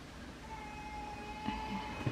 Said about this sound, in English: y'all can probably hear him crying.